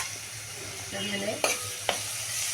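Onion drops into hot oil with curry leaves, two chillies and green garlic, raising a soft, steady sizzle broken by two sharp clacks of a utensil.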